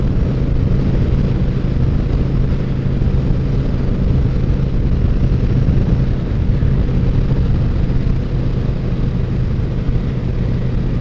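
A Honda Shadow Aero motorcycle ridden fast, at over 110, gives a loud, constant roar of engine and rushing wind that fills the whole stretch without a break.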